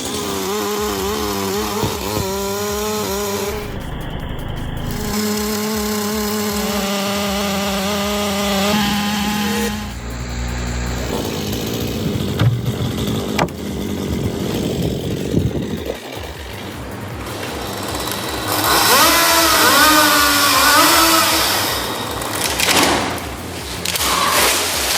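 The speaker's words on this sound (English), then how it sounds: "this guy and his Holzforma G888 are turning that notion on its head. Slicing through a massive oak like it's butter." A Holzforma G888 chainsaw cuts through a massive oak, its loud engine droning and shifting pitch as it bites, with occasional thuds and brief dropouts.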